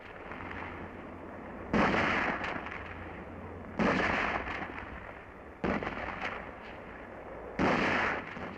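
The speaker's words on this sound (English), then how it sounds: "155mm howitzers blast Japs holed up in the legislative, agricultural, and finance buildings" 155mm howitzers shelling Japanese-held legislative, agricultural and finance buildings in Manila during World War II. Four loud booming blasts land about two seconds apart, each decaying quickly, over a steady hiss and low hum with no talking.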